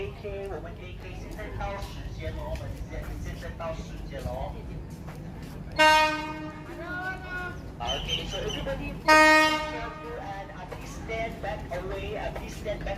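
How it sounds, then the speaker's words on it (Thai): A Thai ordinary-class passenger train, No. 258 from Tham Krasae to Thonburi, arrives with its horn blasting twice, loud and close, over steady background rumble and crowd noise. "รถไฟมาแล้วครับ"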